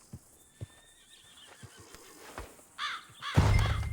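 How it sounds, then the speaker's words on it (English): In Red Dead Redemption 2, a horse whinnies loudly near the end after a few scattered hoof clops and soft knocks. "get that fella's horse"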